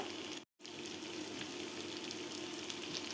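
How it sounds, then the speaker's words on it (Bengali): Potatoes and ustha (bitter gourd) frying with onion in a pan give a steady, close crackling sizzle, broken by a brief silent gap near the start and then continuing evenly with no talk. "উস্তা আর আলু একসাথে ভাজি করব"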